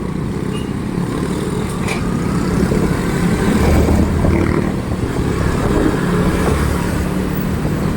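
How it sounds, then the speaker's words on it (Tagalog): Road traffic on Sucat Road in Parañaque, Philippines, rumbles as a steady, continuous engine drone of passing cars and motorcycles close by, without talking. "Tignan natin kung ano ang sitwasyon ng traffic dito."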